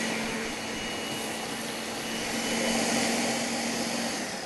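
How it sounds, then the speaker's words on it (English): A kitchen blender purees ingredients with its lid closed, giving a steady, loud whirring drone that holds constant throughout. "Close the lid and let it puree"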